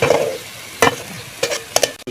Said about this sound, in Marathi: असा गव्हाळा कांदा भाजायचा.